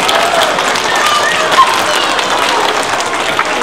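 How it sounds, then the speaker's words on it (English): A school assembly applauds its teachers at a fire safety event, a steady dense wash of clapping from a large crowd of children that holds level throughout, with faint voices mixed in. "How about a nice round of applause for your teachers"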